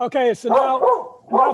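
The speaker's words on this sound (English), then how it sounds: "If you can hear my voice over the sound of my barking dog" A dog barks and yelps in a rapid, close, loud series while someone talks over it during a podcast recording.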